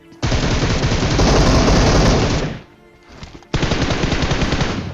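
Loud automatic gunfire in a video game fires in a sustained burst, breaks off briefly, then resumes in another close, dense volley.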